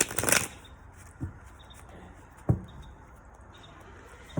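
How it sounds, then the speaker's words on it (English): A deck of tarot cards being shuffled nearby: a quick riffling burst at the start, then two soft single card taps over faint room hiss. "We're going to shuffle the cards one more time."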